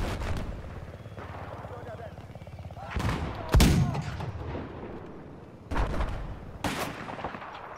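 Cannon fire in the Battlefield 4 video game, several loud booming blasts at irregular intervals over a constant rumbling battle backdrop, with one especially heavy close shot midway and people talking underneath.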